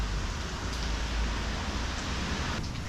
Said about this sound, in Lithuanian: Va šitai bent jau dabar lietus rimsta.